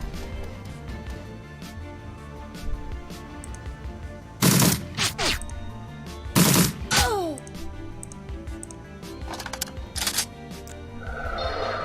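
Gunfire from the video game Shadowrun: Dragonfall, with two loud burst volleys and a few lighter shots over busy game background sound.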